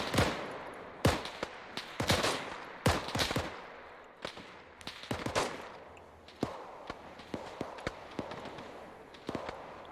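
Gunfire in a military battle video game: sharp cracks and short bursts ring out irregularly throughout, some loud and close, others fainter and distant, with a constant low background rumble.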